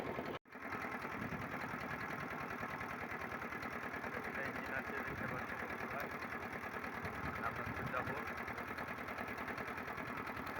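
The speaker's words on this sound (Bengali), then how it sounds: "এই যে পেছনে ইঞ্জিন আছে" A 25 kg engine on a motor van runs steadily with a fast, even mechanical chatter, continuous and fairly close, while someone talks over it.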